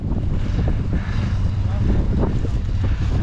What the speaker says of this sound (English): Oh, what a nice wind.